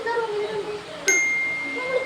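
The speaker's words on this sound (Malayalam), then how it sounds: "നോട്ടിഫിക്കേഷൻ വന്നു എന്തോ" A single bright phone notification ding rings out clearly midway, its tone lingering over a dim, murmuring background.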